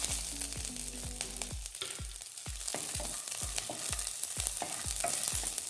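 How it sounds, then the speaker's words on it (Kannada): Garlic and onion frying in a pan for kundapura-style crab sukka, a steady loud sizzle throughout with a regular series of sharp scraping knocks from a spatula stirring, no talk. "ಈಗ ಅರ್ಧ ಬೆಳ್ಳುಳ್ಳಿ, ಸ್ವಲ್ಪ ಈರುಳ್ಳಿ ಫ್ರೈ ಮಾಡ್ಕೊತಾ ಇದ್ದೀನಿ."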